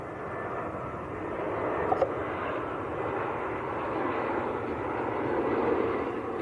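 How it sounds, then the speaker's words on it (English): An EasyJet Airbus A320 jet airliner from Geneva arrives at Manchester Airport on short final, a steady engine roar and rumble swelling gently as it approaches, heard from a distance with no talk. "There's an arrival coming first. EasyJet on short finals."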